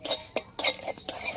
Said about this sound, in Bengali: মশলাটা ভাজার জন্য উনুন জ্বালিয়ে কড়াই বসিয়ে দিয়েছি